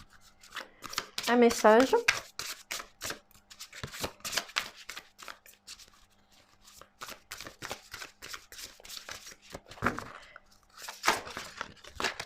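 Tarot cards being shuffled at close range, a burst of crisp riffling followed by soft repeated card flicks and slides, with a voice speaking French briefly in between.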